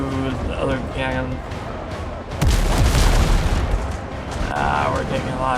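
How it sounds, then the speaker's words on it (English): A ship's cannon fires in the naval combat game WindRose, a loud deep boom with a rumbling tail that lands midway through, amid ongoing game noise and someone talking before and after. "let's switch to the other cannon."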